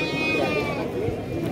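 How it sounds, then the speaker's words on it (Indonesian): A local sheep at a livestock market selling animals for Qurban gives a nearby wavering bleat, heard under people talking. "domba-domba lokalan nih."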